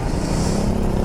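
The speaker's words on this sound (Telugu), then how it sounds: "ఆ బైక్కి మంచి ఎగ్జాస్ట్ చేసారు. క్రేజీ ఉంది అసలు సౌండ్ అయితే." A motorcycle fitted with a modified exhaust gives a brief, loud, rough engine roar close by, sustained without a break over about a second.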